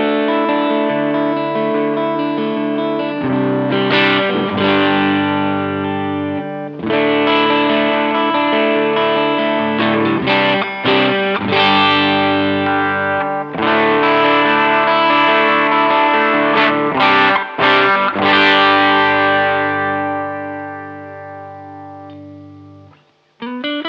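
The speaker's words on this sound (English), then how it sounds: "Now, let's go for some sounds of the guitar." Fender Jazzcaster electric guitar in Burgundy Mist, played through distortion and chorus effects: loud, sustained strummed chords and riffs with brief pauses between phrases, heard alone with no talk.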